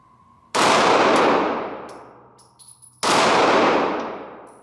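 Two loud Sig Sauer P365 XL pistol shots at an outdoor range, each with a sharp crack and long ringing decay, the first followed by faint metallic pings from steel flapper targets.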